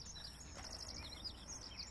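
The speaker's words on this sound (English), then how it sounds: "I hear birds." Birds chirp and sing in a forest, their short high calls repeating steadily at moderate distance over a faint low background hum.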